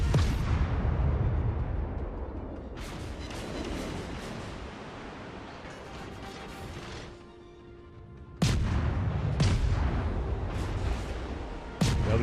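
Repeated heavy explosions from torpedo hits in the naval game World of Warships, loud booming blasts with long rumbling decay, one big hit midway and another sharp one near the end.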